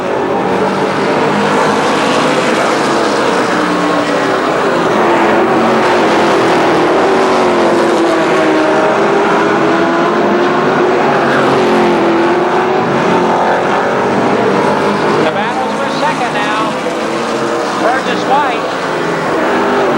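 Race cars at Columbus Motor Speedway during a Memorial Day event roar continuously as a pack of engines runs loud and close, with a commentator talking over the din throughout.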